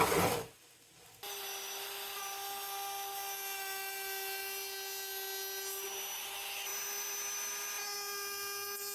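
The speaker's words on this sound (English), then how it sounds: "Let's try out the router bit." A router bit trims edge banding on a wooden test piece, a near, loud, steady high-pitched whine running for several seconds after a brief start.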